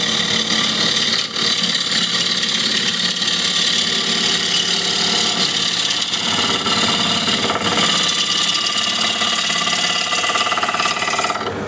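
A bowl gouge shears wood on a lathe in a loud, continuous rough cutting and rubbing roar over the motor hum, steady for the whole stretch with one short dip early on.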